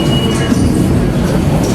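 A subway train passing at close range produces a loud, steady rumble and rattle of wheels on rails, running unbroken for the whole stretch with no voices.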